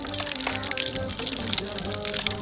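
A household water tap runs with a steady splashing gush, with voices talking over the flowing water.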